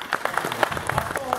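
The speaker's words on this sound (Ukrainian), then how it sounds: "Оплески і браво цій людині." An audience at an Independence Day celebration in Busk claps in a brief, steady burst of applause, many hands patting together in a crowded space.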